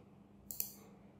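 Two quick, faint mouse clicks sound close together over a quiet background hum, one small sharp tick followed a tenth of a second later by another.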